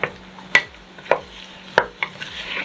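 Vegetables and garlic for a gluten-free vegan minestrone soup being stirred in a pot, with several sharp scraping knocks of a utensil against the pan at a steady, unhurried rhythm, close and fairly loud, with no talking.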